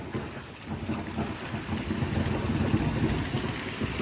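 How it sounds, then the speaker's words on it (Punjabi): Steady roar of heavy rain driven by strong gusting wind during a thunderstorm over a rural village by the Sutlej river, building slightly louder over the span with no voices. "ਆਪਣੇ ਏਰੀਆ 'ਚ ਪੂਰਾ ਮੀਂਹ ਆ ਭਾਈ"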